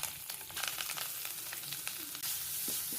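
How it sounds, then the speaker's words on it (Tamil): Ground masala paste with curry leaves sizzles steadily in hot oil in a pan for a village-style chicken roast, a close, continuous hiss broken by a few stirring scrapes, with no talking. "மசாலா வந்து எண்ணெயிலே கொஞ்சம் ஃப்ரை ஆகட்டும்."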